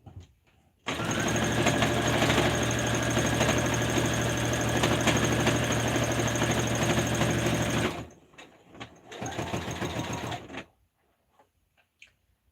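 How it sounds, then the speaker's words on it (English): A sewing machine runs steadily for about seven seconds while stitching the first row of a blanket for a local shelter, then stops briefly and runs again in a shorter burst, close and even with no talking. "we will sew our first row together"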